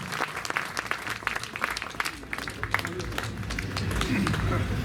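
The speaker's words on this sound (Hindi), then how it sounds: "सब मिलकर हमारे सारे अतिथियों के लिए तालियां बजाएं और सौरभ और अनामिका जी के लिए तालियां बजाएं।" An audience at a Hindi comedy poetry gathering claps for the guests, a dense burst of applause that swells toward the end, with a voice audible over it.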